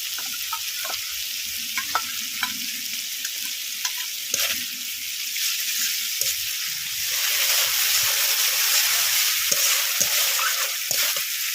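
Cumin and chili spice paste with poppy seed paste and a splash of water fries in a pan, a steady sizzle under scraping spatula strokes that grows slightly louder partway through; no one speaks.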